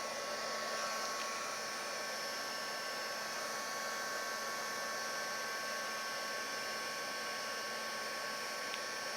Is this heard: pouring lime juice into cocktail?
no